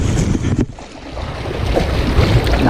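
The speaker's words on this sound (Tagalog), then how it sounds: "Lakas ng hangin eh." Strong sea wind buffets the microphone during boat fishing off a rocky shoreline at Sual, Pangasinan, a steady loud roar with a brief dip, mixed with lapping water against the hull.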